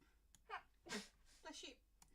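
A single sneeze rings out amid a tabletop role-playing game session, a sharp nearby burst with breathy sounds before and after.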